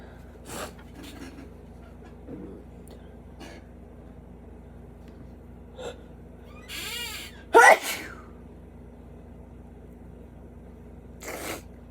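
A single sharp sneeze bursts out loudly in a quiet indoor room, standing alone against faint background handling noises.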